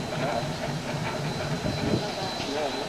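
A steam locomotive, STCR No. 9, hisses steadily while its train is assembled at a festival run from St Thomas to Ingersoll, with a thin whistle-like tone and low mechanical rumble underneath throughout.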